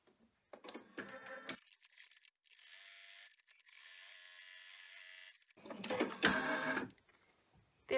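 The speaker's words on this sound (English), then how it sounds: "we're going to go and run the placement stitch on the tearaway stabilizer" An embroidery machine stitches a placement line on tearaway stabilizer: a steady mechanical whir with rapid rhythmic needle clatter, stopping and restarting, loud and close.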